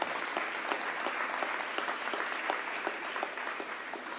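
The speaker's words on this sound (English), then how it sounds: "So can we give Kimberly Ann another round of applause?" A community gathering with the mayor's cabinet at a YMCA gives a round of applause, steady and fairly faint, with many hands clapping evenly throughout.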